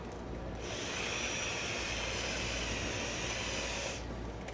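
Drill spinning to coil wire onto a mandrel for chainmaille rings, a steady whirring hiss that holds evenly for several seconds before dropping off, fairly quiet with no speech.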